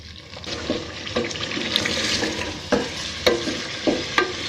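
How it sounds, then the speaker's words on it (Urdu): Beef trotters (paye) and beef shank sizzle and fry in a pot while a spoon stirs them, giving steady crackling with repeated scraping knocks against the pot. No voices. "اب ان دونوں چیزوں کو اچھی سے بھون لیتے ہیں"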